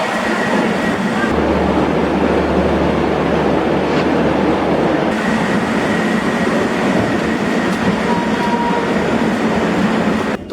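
The Dibrugarh Rajdhani Express rolls along with a loud, continuous rumble of wheels on track heard from inside the train, a low steady drone running through the first half.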